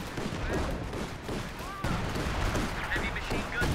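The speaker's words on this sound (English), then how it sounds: "I think major artillery's just been called near the North VP" Dense WWII battle soundscape from a strategy video game, with rapid gunfire and machine-gun bursts crackling over a rumbling artillery barrage near a contested victory point, continuous and layered.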